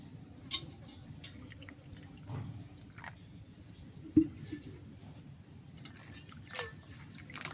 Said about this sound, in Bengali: এখন শুক্তিটা ভালো করে পরিষ্কার করে ধুয়ে মধ্যে কাটা সব কিছু বার করে ফেল দিব